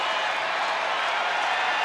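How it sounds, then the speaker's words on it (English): A baseball stadium crowd at an Angels versus Rangers game roars in a steady, dense wash of cheering and noise that holds at an even level throughout. "Crowd making some noise."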